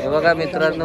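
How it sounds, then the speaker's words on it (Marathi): A flock of birds trailing a boat on the Ganges calls close by in short, cooing, pigeon-like bursts. Someone talks over them throughout. "किती पक्षी आलेत आपल्या मागे"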